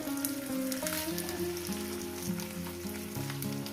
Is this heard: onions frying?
yes